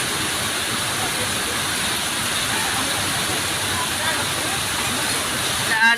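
Floodwater surges and rushes into an elephant show arena, a steady loud roar of pouring water that fills the whole scene without pause.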